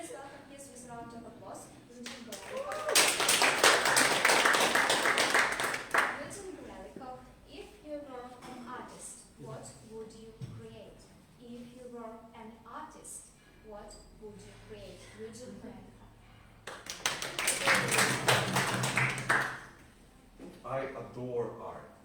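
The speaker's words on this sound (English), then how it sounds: "Please welcome his with a round of applause" Audience applause for a contestant at a Table Topics speech contest in a club setting: two bursts of clapping lasting a few seconds each, with someone speaking in between them.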